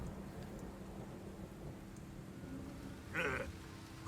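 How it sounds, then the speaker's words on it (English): Thunder rumbles low and steady beneath falling rain in Metal Gear Solid 3, with a brief sharper burst near the end. "Who's afraid of a little thunder?"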